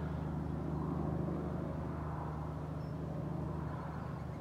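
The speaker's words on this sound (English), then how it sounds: "I can hear a helicopter." A steady low mechanical drone with a throbbing rumble, like a helicopter passing at a distance during thunderstorms and fires near Auburn, continuous and fairly faint throughout.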